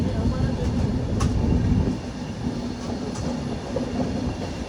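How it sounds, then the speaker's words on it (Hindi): Inside a passenger train on the Danapur to Secunderabad route, a constant low rumble and rattle fills the carriage as the train gathers speed, with faint clicks over the steady roar. "पर हाँ थोड़ी रफ्तार पकड़ ली है ट्रेन ने हमारी।"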